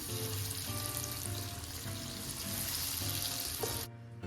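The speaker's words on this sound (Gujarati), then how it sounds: "બીજા બધા સેવ રોલને પણ આપણે આ જ રીતે ફ્રાય કરી લઈશું" Sev rolls deep-frying in oil with a dense, crackling sizzle, close and steady, cutting off abruptly near the end; no speech.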